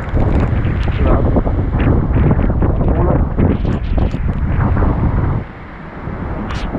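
Strong typhoon wind buffets the microphone in a loud, continuous roar that surges and gusts, easing slightly near the end, with voices talking over it.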